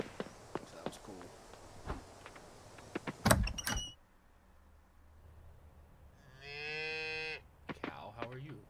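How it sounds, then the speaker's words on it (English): A cow in the farming game Coral Island gives one drawn-out moo, clear and close, after a stretch of clicks, footsteps and interface sounds, with a short burst of tapping following it. "Cow, how are you? We'll pet you."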